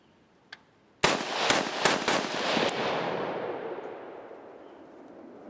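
A KelTec SU16F rifle fires about five quick, loud shots in rapid succession outdoors, each crack sharp and close, followed by a long echoing decay; one faint click comes just before.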